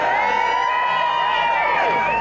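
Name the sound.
crowd cheering at Christmas light switch-on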